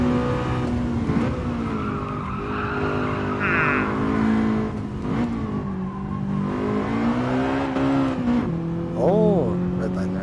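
A race car in the GT Sport video game brakes hard into a corner, tires squealing and skidding over a high revving engine whine that drops and climbs again, with a voice talking over it.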